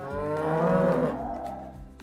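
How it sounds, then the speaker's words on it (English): A cow on a farm gives one long, drawn-out moo lasting about two seconds, loud and close, with no other sounds around it. "It's a cow."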